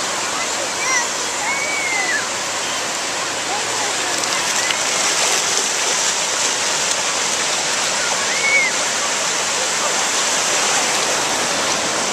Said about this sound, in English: Whoa, big waves.